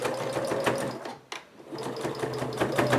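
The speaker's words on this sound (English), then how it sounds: "now I'm just going to sew the sides of my coupon" A sewing machine stitches along the sides of a fabric coupon organizer with Velcro, running steadily and close, with a brief pause partway through before the stitching resumes.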